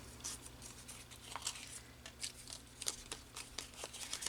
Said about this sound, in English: and then kind of crumple